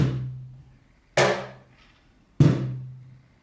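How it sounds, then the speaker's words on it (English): Three separate drum hits, a deep low thump followed by two sharper, brighter strikes, each decaying quickly with pauses between them. "In a drum, there's a low sound and a high sound."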